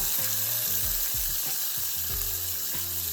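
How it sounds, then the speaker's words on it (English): Peppers, onion, garlic and tomato sautéing in about a quarter cup of oil in a pan, sizzling steadily at close range, with rhythmic tonal scraping knocks from stirring repeating throughout and no voices. "we want to bring this to a nice saute. So we're going to saute these up"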